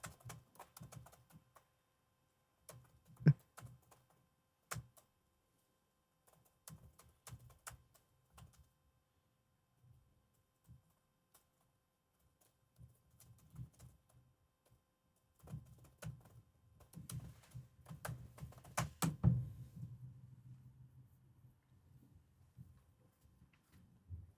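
Computer keyboard keys tapped in scattered bursts while a prompt is entered for building a website, close and quiet clicks with pauses, growing into a denser run of typing toward the end.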